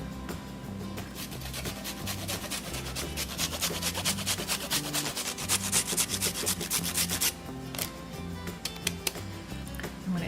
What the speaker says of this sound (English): so I'm gonna grate some ginger, maybe like a 2 inches a piece of ginger